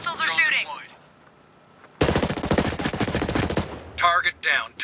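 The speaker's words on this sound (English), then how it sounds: "Hostiles are shooting." Dense automatic gunfire in the Ghost Recon Breakpoint video game, a loud sustained burst of rapid shots in the middle, with game voice lines before and after.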